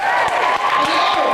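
A high school battle of the bands crowd cheers and claps, a loud wash of voices and applause over a sustained band tone, with a few sharp claps standing out.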